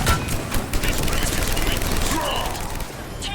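Sustained gunfire fills a firefight in the Mass Effect 3 video game, a dense continuous rattle of shots with booming impacts and shouted voices mixed in throughout.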